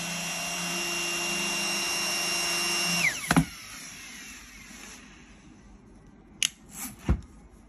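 A 2014 Makita 3612C plunge router made in Japan runs steadily with a loud, even whine for about three seconds, then winds down and coasts to a stop, followed by a few sharp handling clicks and knocks.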